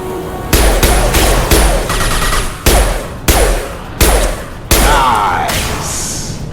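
Repeated bursts of Mass Effect gunfire in rapid volleys, loud sharp cracks with booming impacts roughly every second, layered over a busy combat background.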